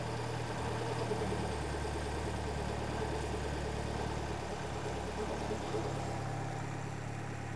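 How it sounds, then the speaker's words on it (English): Ford Escort RS Turbo engine idling steadily with a low, constant hum and faint mechanical rattle, close by and alone with no talk. "I'll lower the idle speed a bit because it's now running a bit fast."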